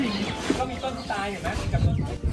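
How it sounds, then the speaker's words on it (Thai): Laying hens on a Thai farm cluck and chatter close by in short repeated calls, with someone talking over them. "สำหรับไก่ที่เห็นนี่คือไก่ไข่ค่ะ"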